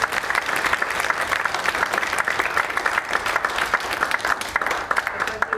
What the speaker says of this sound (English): I'm doing a big round of applause.